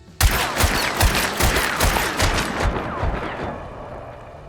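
Rapid volleys of gunshots in Hunt: Showdown, a lever-action revolver fanned and levered with high-velocity and standard ammo, loud close repeated cracks in a fast rhythm that trail off into a fading echo.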